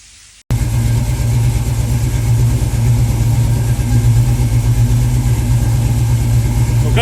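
A 1968 Ford Mustang V8 with its carburetor being adjusted starts up and settles into a steady, somewhat fast idle, loud and close, with a constant low rumble.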